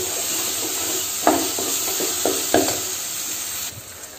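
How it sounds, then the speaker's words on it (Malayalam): Tomatoes sauté with salt and turmeric in an oily pan for Kerala-style beef curry, a steady close sizzle with several sharp spatula scrapes and clacks, then the hiss suddenly drops near the end. "നമ്മൾ ഉപ്പും മഞ്ഞൾപ്പൊടിയൊക്കെ ചേർത്തുകൊണ്ട് പെട്ടെന്ന് വഴറ്റിയെടുക്കാൻ പറ്റും"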